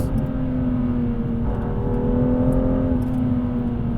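BMW 2-series engine pulling hard toward its 7,500 RPM red line, heard from inside the car: a steady, loud engine drone whose pitch climbs evenly throughout, with no talking.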